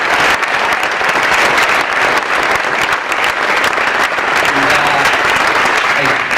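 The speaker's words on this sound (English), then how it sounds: "So I want to give them a round of applause" Loud, sustained audience applause at an awards ceremony, dense clapping from a large crowd filling the room steadily for several seconds with no pause.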